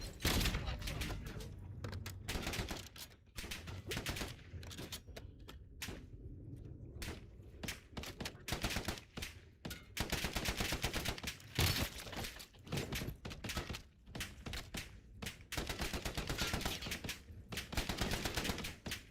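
Rapid bursts of gunfire in Black Ops 7 with frag grenade explosions nearby, dense, loud and nearly continuous, with sharp cracks over a heavy rumble and brief gaps, and a voice talking underneath.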